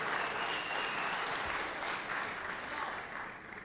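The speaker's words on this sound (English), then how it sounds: "Let's give her a round of applause, everybody." Sustained applause fills a state senate chamber, dense and even clapping from many hands at close range, holding steady for several seconds before easing slightly at the end.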